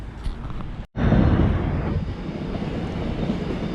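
A train in Busan, South Korea, rumbles steadily past at close range, a broad continuous roar with no voices, briefly cut by a gap near the start before the noise resumes and holds.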